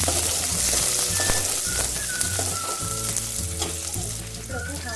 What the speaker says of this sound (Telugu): ఆనియన్స్ కొద్దిగా బ్రౌన్ కలర్ వచ్చే వరకు ఫ్రై చేస్తున్నాను.